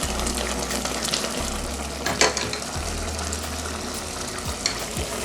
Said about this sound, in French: ça bouillit avec son propre eau